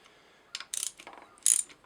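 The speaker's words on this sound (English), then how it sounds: "So now I'm just going through the same procedure but with a ratchet" A hand ratchet turns the head bolts on a DSM 4G63 engine during a valve spring replacement: a few short, quiet bursts of rapid metallic clicking with brief pauses between them, close by and alone.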